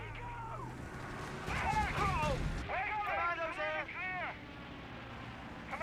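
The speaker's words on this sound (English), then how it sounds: "Airstrike incoming." Airstrike explosions in the Company of Heroes 3 strategy game land as heavy, rumbling booms in a short burst, partly under a voice talking over the action.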